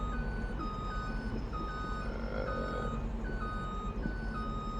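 Repeated electronic reversing beeps from a farm vehicle with trailer in Farming Simulator 22, on a UK map, sounding in steady evenly spaced pulses over a continuous engine rumble, loud and close throughout.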